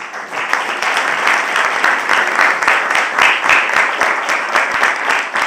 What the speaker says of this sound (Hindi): आप सभी के लिए जोरदार तालियां